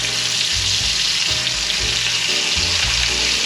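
Steaks sear in a hot pan after being flipped, giving a loud, continuous close-up sizzle with a dense hiss and intermittent low rumbling pulses underneath, with no voices.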